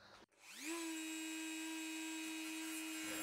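A Dremel rotary tool spins up to about 25,000 RPM with a rising whine, then holds a steady high-pitched tone while cutting into a metal padlock, loud and alone.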